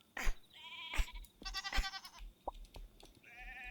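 Goats bleating in the Miniland Adventure video game, several short, bright digital bleats in quick succession, close and clear with no talk.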